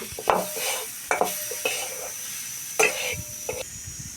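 Wild brinjal, wrung out, goes into a pan with fried onion, chilli and spices, producing a soft sizzle beneath several sharp spoon-against-pan scrapes and knocks at irregular intervals, close up.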